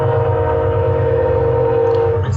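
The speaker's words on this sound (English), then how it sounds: "as the train goes by" A train passing close by, a loud sustained rumble with steady tonal hum throughout, unbroken for the whole stretch.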